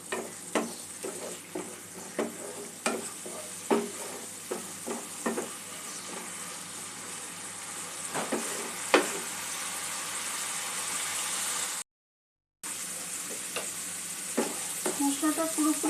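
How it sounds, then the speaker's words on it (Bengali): Spice masala with yogurt sautéing in a pan for a chicken meatball curry, a steady close sizzle with a string of sharp spatula scrapes and stirring knocks, with a brief dropout near the end. "দই দিয়ে মশলাটা আর একটু কষিয়ে নেব।"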